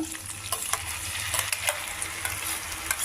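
Blended tomato and green chilli puree cooking down in a pan for a curry, giving a steady close sizzle and bubbling with occasional stirring scrapes, no talking.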